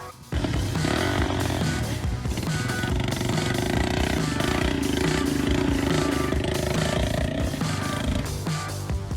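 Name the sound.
crawler motorcycle engine driving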